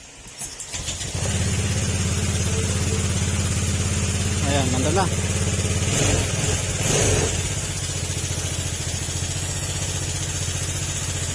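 A Honda Click 150 scooter's engine idles steadily after a fuse repair, a constant close-up mechanical drone with a brief rev, while someone speaks over it.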